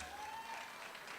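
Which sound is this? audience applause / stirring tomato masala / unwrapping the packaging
audience applause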